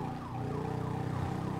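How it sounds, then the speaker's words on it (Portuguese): An ambulance siren wails in GTA 5, a continuous rising and falling electronic tone over the low drone of a moving vehicle, fairly close and steady throughout. "Que a ambulância do resgate não está podendo correr muito."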